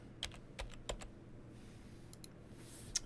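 A name being entered on a computer keyboard in a database program, a few quick key clicks, a pause, then a couple more light taps and a final sharper click, close but quiet with no speech.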